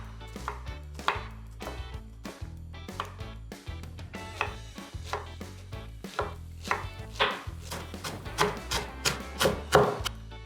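Knife chopping shallots on a board, rapid rhythmic cuts in irregular bursts, close and fairly loud, with no talking.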